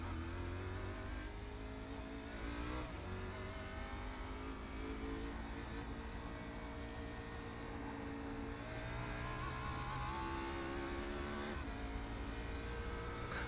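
An Xfinity stock car engine drones loudly throughout a lap at Dover in the iRacing sim, with its pitch climbing and dropping through shifts and corners, steady and close with no talk.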